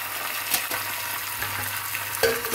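Coriander and curry leaves frying in hot oil for a dal tempering, a steady close sizzle with a few sharp pops and crackles, no voices.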